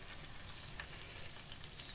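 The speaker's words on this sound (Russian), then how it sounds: "Тоже кладем на сковородочку. И все, пусть жарится." Chebureki, meat-filled pastries, fry in oil in a pan, giving a steady dense sizzle with soft crackles, close and continuous without any voices.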